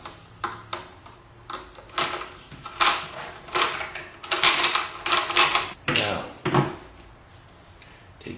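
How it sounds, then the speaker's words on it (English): Phillips screws being backed out of an autoharp, a string of short clicky mechanical taps and scrapes coming in irregular bursts, close and fairly clear, with brief pauses between them. "we'll start as usual as removing the"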